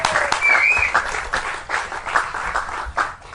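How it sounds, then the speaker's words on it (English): Applause from an audience celebrating a dog park award, a steady burst of many hands clapping with a few cheers, fairly close and lasting throughout. "so let's give that a round of applause"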